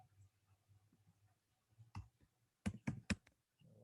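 A computer keyboard is typed on in a quiet room, a few sparse soft clicks followed by a quick burst of three or four sharp keystrokes, close and faint.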